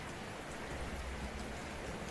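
Steady rain pours down without a break as tabletop background ambience, a dense, even hiss of falling water that holds at one level throughout with no voices over it.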